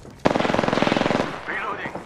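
Rapid automatic gunfire in Apex Legends, a loud close burst of evenly spaced shots lasting about a second, followed by fainter in-game effects and a brief voice line.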